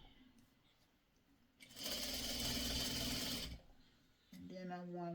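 A sewing machine runs in one steady burst of about two seconds, stitching pre-cut Christmas tree quilt fabric pieces, with quieter handling noise around it and someone talking briefly afterward.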